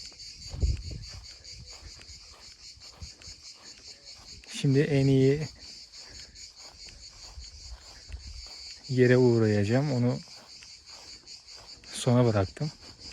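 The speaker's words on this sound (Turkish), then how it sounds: "Cırcır böceği zaten şu an seslerini duyuyor olmanız lazım." Crickets chirp in a steady, high-pitched drone throughout at an ancient sanctuary site in Gülpınar, while a person speaks in three short bursts over it.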